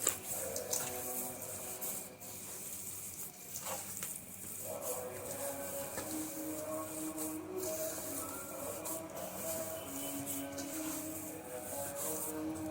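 Oat dough with ghee is gathered and kneaded by hand for Eid cookies, giving a steady close rubbing and squishing with occasional soft knocks and no talking.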